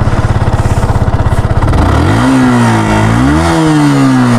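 A Yamaha R15 V1 first-generation sport motorcycle's exhaust idles with a rapid, close-up putter, then revs loudly, rising and holding high before dipping and climbing again, with no voices.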